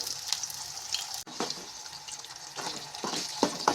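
An egg sizzles in a pan of rice for fried rice, a soft steady frying hiss with a few scraping stirs and light clinks, fairly quiet and close.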